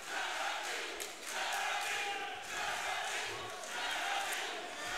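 At a Contenders 16 grappling match, spectators chant a fighter's name in loud, rhythmic surges that rise and fall about once a second, a massed roar filling the arena.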